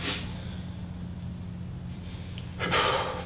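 Deep breath during a meditation class: a short breathy exhale at the start, then a long quiet pause over a low hum before a strong, full inhale or exhale rushes in close to the microphone.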